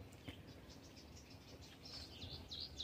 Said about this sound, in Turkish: Kuş seslerini duyuyorsunuzdur